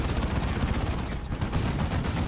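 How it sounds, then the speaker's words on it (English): Front-mounted lascannon on a vehicle firing in Dawn of War 2: Retribution, a dense, continuous barrage of loud gunfire-like blasts and rumbling impacts with no talk over it. "there's that front-mounted las cannon"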